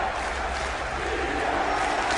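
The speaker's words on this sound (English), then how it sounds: "Defense chant." Stadium crowd at a Patriots football game chanting "defense," a dense, steady roar of thousands of voices sustained throughout at moderate distance.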